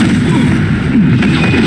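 A Confringo blasting spell in Hogwarts Legacy, a loud rumbling burst of fiery explosion noise with crackling pops, dense and close, with no voices.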